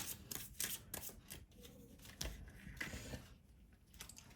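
Cards from an angel guidance deck are shuffled and drawn, making quiet papery riffles and slides in short bursts with no talking.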